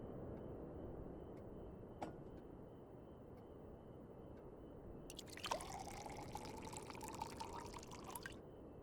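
Water pouring and trickling in Final Fantasy XIV, a steady, quiet liquid splash that rises into a brighter, fuller pour partway through before cutting off, over soft game ambience.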